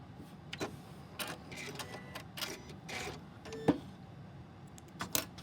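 A sewing machine stitches quilt block fabric in short, irregular mechanical bursts with brief pauses between runs. It is quiet and close, with no talking.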